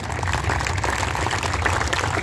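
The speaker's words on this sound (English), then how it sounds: "Let's give him a nice round of applause." A crowd at a racetrack gathering applauds a former late-model race car driver, giving a steady, dense roar of clapping that holds at an even level from start to finish.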